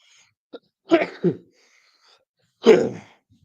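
A few harsh coughs close by: a small catch, then a double cough, a pause, and one more heavy cough in an otherwise quiet room.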